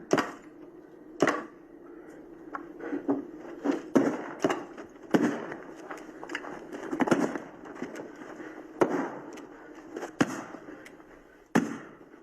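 A prop gun fired on a film set gives several sharp cracks, some close together and some spaced apart, over a murmur of background noise.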